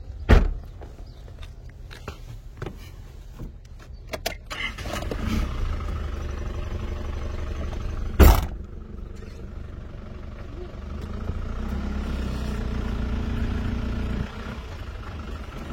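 A car drives around Jabal Rahmah hill in Makkah, its engine running low and steady with a sharp thump partway through and the engine swelling later, while someone talks over it.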